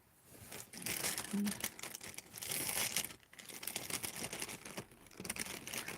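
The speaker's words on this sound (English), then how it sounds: "you're gonna hear like all this rustling in your ears." Sheets of colored paper, one of them yellow, rustle and crinkle up close in repeated bursts, with a voice talking softly in between.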